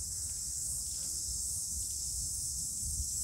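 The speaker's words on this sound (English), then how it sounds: "Tree full of cicadas." Cicadas in a tree at night drone in a steady, continuous high-pitched buzz, fairly quiet and unbroken, with faint low background rumble and no talk.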